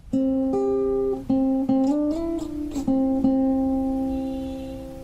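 A clean guitar plays the first part of a song, single sustained notes with finger slides between pitches, gentle and ringing, fading out at the end.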